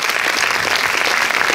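An audience at a Paris film premiere screening applauds, a close, loud and dense wash of clapping that keeps a steady level from start to end.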